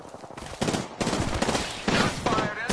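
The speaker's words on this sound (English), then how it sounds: "Shots fired, and they're hitting me" Gunfire in a video game firefight, a dense series of loud shots and bursts fired close by in quick succession with no talk over it.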